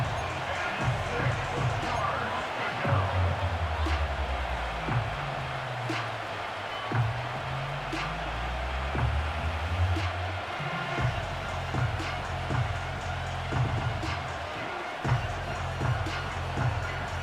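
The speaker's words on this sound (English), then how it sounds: "The crowd getting into it as we come up on a big third down." In a Madden NFL video game matchup of the Raiders at the Broncos, a stadium crowd roars steadily in the background before a big third down, continuous and moderately loud under a commentator's voice.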